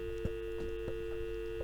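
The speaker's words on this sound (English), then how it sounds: "You got your dialing tone?" A telephone dial tone hums steadily and fairly quietly on a newly installed fibre-to-the-premises line, unbroken from start to end.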